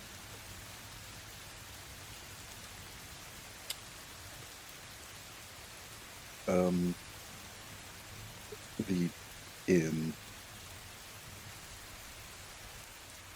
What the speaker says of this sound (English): It's still raining, right?